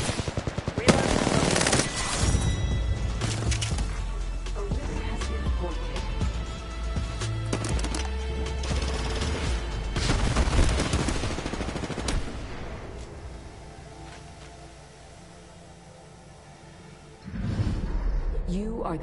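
Sustained automatic gunfire from the Apex Legends battle royale game, loud bursts of rapid shots with booming low end running for about twelve seconds before thinning out, then a fresh burst near the end, with a voice speaking over it.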